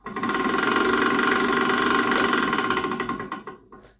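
Loud continuous whirring of a Nova Comet II midi wood lathe with worn bearings, a rough, rattling chatter throughout, holding steady before slowing and fading near the end.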